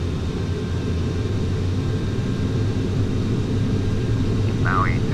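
Boeing 737-800 jet engines in Flight Simulator spool to a steady, loud low roar during takeoff at Kahului, Maui, with a constant broadband rumble throughout and a brief tonal chirp near the end.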